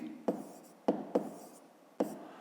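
Pen marks on paper during a Ukrainian fifth-grade maths exercise, four short sharp scratching strokes spaced irregularly, each fading quickly, close and fairly quiet with no voices.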